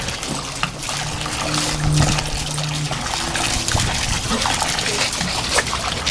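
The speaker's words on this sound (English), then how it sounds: "Look at Lucky in the water" A small dog splashes and paddles in a backyard pool, with water sloshing and trickling nearby while people talk and cheer over it.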